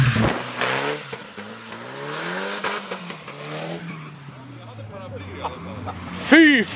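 A car accelerating hard at full throttle, its engine note climbing with some tire squeal, heard under loud, excited talking from people nearby.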